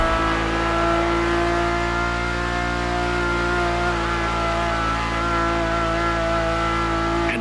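Ferrari supercar engine in The Crew Motorfest, a carbon-fiber-chassis machine with racing roots, holding a loud, steady, strongly harmonic drone for the whole stretch with a slight rise in pitch, close and alone without talk.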